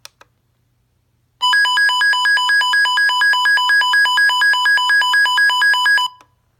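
Weather radio alert test tone sounding alone: a loud, steady pulsing electronic warble of rapid repeated beeps lasting about five seconds, preceded by a couple of faint clicks from button presses.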